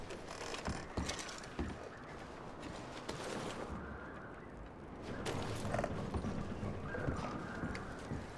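Horse hooves clip-clop steadily on the ground in Red Dead Redemption II, a continuous trotting rhythm close by over a busy outdoor background, with no voices over it.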